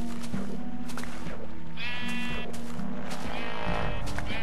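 Sheep bleat repeatedly in the Minecraft video game, wavering cries rising over a steady, continuous backdrop of game music or ambience.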